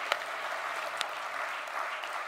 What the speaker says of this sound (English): let's give the speakers a round of applause for doing a very good job.